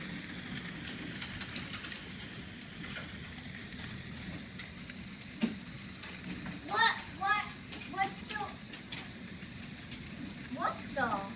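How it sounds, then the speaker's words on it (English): Hail pelting down in a hailstorm and streaming off a house gutter, a steady dense broadband patter with faint voices calling out in the background. "No, that's not snow. Ice. It's hail."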